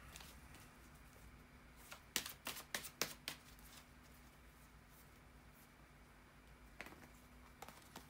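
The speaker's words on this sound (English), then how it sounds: "as I am shuffling the cards" A quick burst of sharp paper flicks and riffles from tarot cards being shuffled, then quiet room tone with a couple of soft taps.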